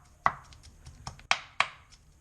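A knife chops through an onion on a cutting board in four or five crisp, separate strikes at an uneven pace, close and clear against a quiet background.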